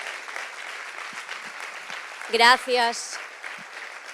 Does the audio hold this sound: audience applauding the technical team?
yes